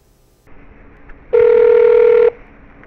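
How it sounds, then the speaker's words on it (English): A telephone call to a police information center: a faint line hiss leads into one steady, loud ring tone lasting about a second. No one speaks. "released recordings of phone calls he made to the Washington Police and the State Department"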